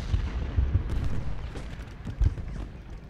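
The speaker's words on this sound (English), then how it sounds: "Shell fire on Heath skirmishers" Artillery shelling in Ultimate General Gettysburg rolls on as dense, continuous battle noise, with repeated dull booms and cracks over a thick rumbling bed.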